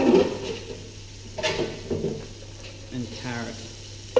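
Onion, celery and carrot sauté in a hot, dry pan, giving a soft sizzle with intermittent scraping and stirring clatter, fairly quiet and close, with no talk over it.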